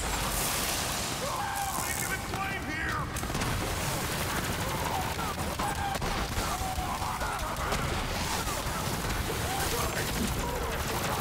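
An enemy's launcher fires repeatedly at the player in Borderlands 3, heard as rapid bursts of explosive gunfire and impacts layered over busy combat noise, with a player's voice talking over it.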